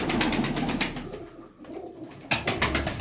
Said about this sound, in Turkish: Ama bir kanat sesi var.